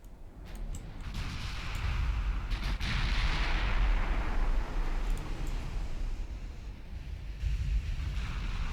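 A 12-inch naval gun fires in the Ultimate Admiral Dreadnoughts warship game, producing a deep, heavy boom that swells into a long, rolling rumble lasting several seconds, with no voices.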